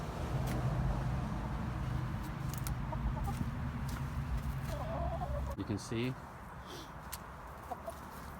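Hens cluck in short bursts near the mic with a steady background hum, while a voice speaks briefly over them.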